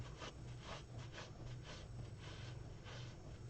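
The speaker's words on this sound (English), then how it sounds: "I'm just going to rub it with a towel" A towel rubs back and forth over a wet painted junk-journal page, a quiet rhythmic scrubbing of about eight strokes, close and soft, with no talking.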